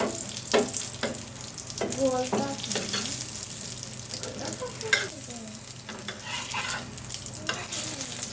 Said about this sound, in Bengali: এখন আমি রুটির উপরে দিয়ে দিচ্ছি ঘিটা।